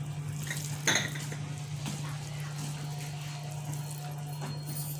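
Chicken mince being mixed with bread crumbs in a bowl, with soft clinks and scrapes of utensil against the dish, one louder knock near the start, over a steady low hum.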